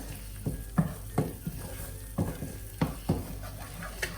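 An onion, ginger and garlic puree sizzles softly in a pan on the stove, a quiet steady frying hiss broken by intermittent scraping strokes of a spoon stirring the paste.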